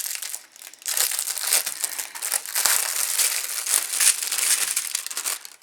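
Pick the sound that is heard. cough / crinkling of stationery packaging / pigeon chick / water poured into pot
crinkling of stationery packaging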